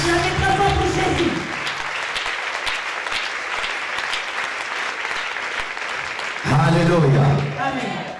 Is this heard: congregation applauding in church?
yes